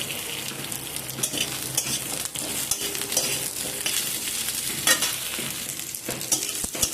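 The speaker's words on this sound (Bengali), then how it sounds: "দিয়ে সব কিছুকে একসাথে ভালো করে একটু নাড়াচাড়া করে নেব।" Potatoes and onions sizzle and fry in a hot pan while a spatula stirs them, a steady close crackle broken by scraping strokes and occasional light knocks, with no talking.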